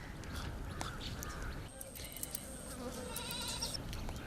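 Goat bleats come through amid a lively outdoor village scene, short wavering cries mixed with background chatter and a constant insect-like buzz.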